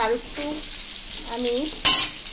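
Potatoes fry in oil in a pan with a steady, close sizzle and some faint tonal squeaks. A sharp, louder burst of crackling near the end then settles back, with no talking.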